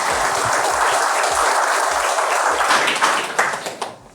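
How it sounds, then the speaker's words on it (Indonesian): An audience at a leadership talk by Jusuf Kalla breaks into dense, loud applause that holds steady, then thins into scattered claps and fades out. "Kita berikan aplaus yang sangat meriah."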